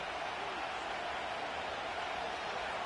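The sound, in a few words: stadium crowd cheering in the video game Madden 25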